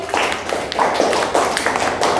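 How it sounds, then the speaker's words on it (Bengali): A room of children clap together for a classmate after her reading in a primary classroom, steady dense applause held at a constant level for its whole short length. "অর্মিতার জন্য হাত হাততালি দিই সবাই"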